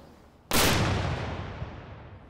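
An Austrian bronze howitzer, a cannon of the type Napoleon took into Russia, fires once with a sudden loud boom whose roar and echo fade slowly over the next two seconds.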